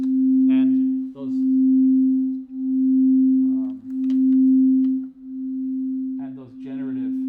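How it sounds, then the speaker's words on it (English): Loud, steady sine tone from Punctual live coding hums through the whole stretch, pulsing in several long swells, with brief bursts of speech-like sounds over it. "you get that slightly loud sine wave"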